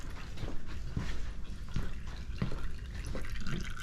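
Engine oil drains from a 1975 Honda CB750 into a container, a close, steady trickling pour with irregular splashy drips and glugs repeating every half second or so.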